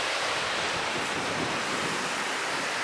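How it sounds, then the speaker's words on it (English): Big ocean waves crash and smash on coastal rocks, a steady loud roar of surf and churning water with wind buffeting the microphone, no voices. "quite big waves coming in, smashing on these rocks out here."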